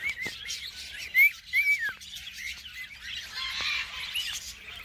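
Parakeets, cockatiels and conures at a parrot sanctuary give bright chirps and short whistled calls, with a few louder squawks, close to the microphone and with no talk over them.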